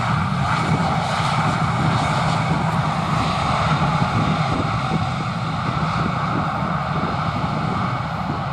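A Wizzair Hungary Airbus A320 landing at London Luton on a windy afternoon, its engines a loud, continuous, broadband roar that holds steady throughout with no pauses.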